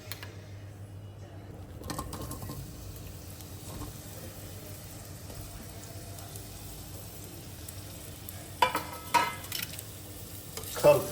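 Onions hit hot oil in a pan for palak chicken, giving a soft continuous sizzle with a few sharper scraping stirs near the end, fairly quiet and close, no voices.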